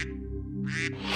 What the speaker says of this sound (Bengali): রাজহাঁস এখন চিৎকার করছে